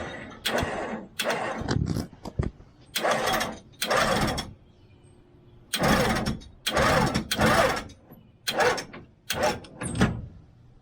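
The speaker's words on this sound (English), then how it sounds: "we're gonna see if we can use the winch to pull that out" A vehicle winch on a Land Cruiser pulls out a bent frame in repeated bursts of loud whirring and ratcheting, each run a second or so long, separated by short pauses.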